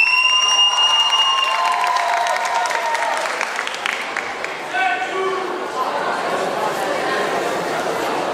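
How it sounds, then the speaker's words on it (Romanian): An audience at a school freshman ball in a hall applauds steadily for several seconds, a dense wash of clapping with some cheering, fading slightly toward the end. "Să o primim în aplauze pe Ramona Poruțiu."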